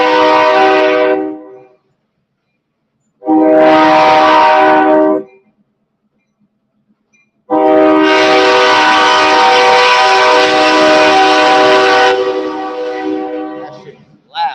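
A loud train sounds its horn close by in long, blaring blasts: two short honks separated by silence, then a sustained blast that fades out, with a brief voice at the very end.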